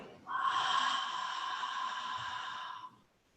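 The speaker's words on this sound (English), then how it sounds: "And open the mouth, exhale" A long, breathy exhale through an open mouth during a yoga breathing exercise, soft and close, lasting nearly three seconds and fading at the end.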